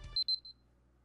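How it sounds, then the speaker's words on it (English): GoldenEye video game beeps: three short, high electronic tones after a brief low thump, each quieter than the last, then near silence. "The beeping sound."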